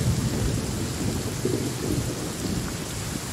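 Steady rain pours in a video game with low rumbling thunder rolling beneath it, a dense, continuous storm wash filling the whole stretch with no voices.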